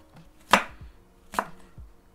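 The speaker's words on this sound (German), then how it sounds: "Und dann machen wir uns da Würfel draus." Knife dicing apple slices on a cutting board, two sharp chopping thuds spaced under a second apart, close and clear with no talk.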